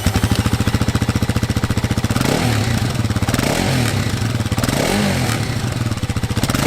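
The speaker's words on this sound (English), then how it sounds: "So here is the engine. It's a 292cc single, so a thumper, fuel injected" A fuel-injected, liquid-cooled Kawasaki KLX300SM 292cc single-cylinder thumper runs loud and close, with a rapid even idle thump that swells into short revs midway before settling back.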